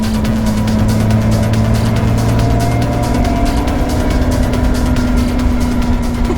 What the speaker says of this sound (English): we're at top speed for the scooters